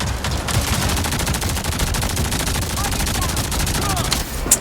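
Rapid bursts of automatic gunfire from Avatar Frontiers of Pandora crackle continuously and loudly in dense rhythmic volleys, with a sharper shot standing out near the end.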